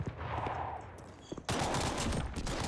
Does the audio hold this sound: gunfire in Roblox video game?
yes